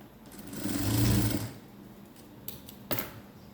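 A sewing machine stitches the upper edges of a blouse and its patti panel together, running in one steady whirring burst that swells and fades over about a second, followed by a couple of short clicks and taps.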